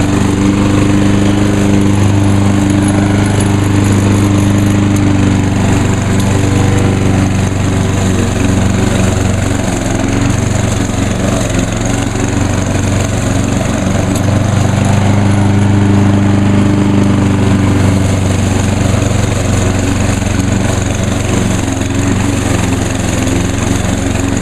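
A Lawn-Boy 10606 self-propelled lawn mower runs loud and steady at close range, its engine droning continuously with no talking over it.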